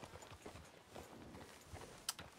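Horse hooves clopping in the Red Dead Redemption II video game, a quiet, steady run of muffled hoofbeats across the ground with a couple of sharper knocks near the end.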